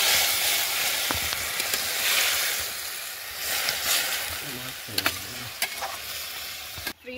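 Ash gourd curry with neem leaves frying and stirred in a hot oiled wok, a continuous loud sizzle with scraping stirring strokes, a voice briefly speaking over it.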